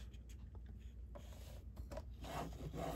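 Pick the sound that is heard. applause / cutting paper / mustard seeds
cutting paper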